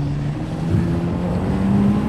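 A turbocharged Exocet track car drones steadily as it climbs a hill, its engine a continuous low hum held near the car with no talk over it.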